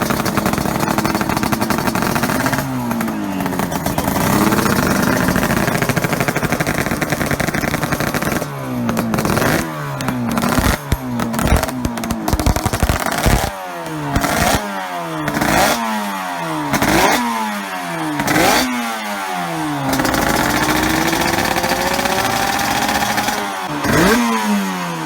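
Suter MMX 500 racing motorcycle engine, loud and close, droning steadily before a run of sharp rev blips and rapid up-and-down throttle sweeps, then settling back into a sustained high drone.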